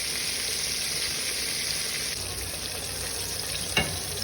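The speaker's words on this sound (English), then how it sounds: "Sounds like the grease is slowing down." Bream and bluegill fish fry in hot grease with a steady, even crackling sizzle that fills the clip, and a single soft knock lands near the end.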